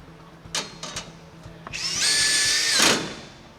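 A power drill tightening screws on a floor mount enclosure: a few short whirring pulses, then a longer high whine that builds and cuts off as the screw seats, close by in a quiet room.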